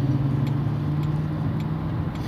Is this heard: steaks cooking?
no